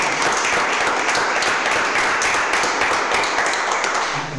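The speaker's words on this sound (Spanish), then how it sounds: "un fuerte aplauso, Javier Soler" Steady, loud applause from an audience at a book presentation on the archaeology of Lanzarote, a dense wash of clapping that holds evenly throughout without letting up.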